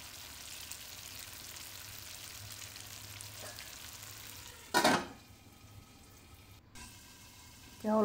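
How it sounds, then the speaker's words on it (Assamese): Fish sizzles steadily in a hot pan for an Assamese fish curry, with stirring scrapes under the hiss, a sharp clattering clank of the lid midway, and a further burst of metallic rattling at the end. "মাছখিনি ভালকৈ লৰাই এতিয়া মই ঢাকনিখন মাৰি দিম।"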